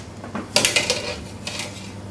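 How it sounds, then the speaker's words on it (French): Cooked rhubarb being moved onto a large metal baking tray in a kitchen, with a quick run of close, bright clinks and scrapes of utensil on metal, then a softer clatter, and no talking. "la débarrasser dans une plaque, dans une grande plaque, pour pas qu'elle soit entassée"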